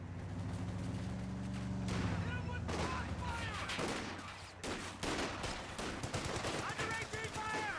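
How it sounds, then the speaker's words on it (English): Gunfire crackles in Company of Heroes 2, the World War II strategy game, with dense bursts of shots and rattling fire over a steady low battle rumble, continuous and fairly loud throughout. "Shots at us!"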